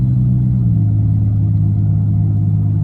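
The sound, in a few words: 1990 Oldsmobile Cutlass Supreme 3.1 V6 engine accelerating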